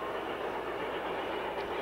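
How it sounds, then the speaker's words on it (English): LGB Rio Grande diesel model train running on its track, a steady close rolling rumble with faint clicking that continues evenly throughout, with no voices. "the Rio Grande Diesel that just pulled in"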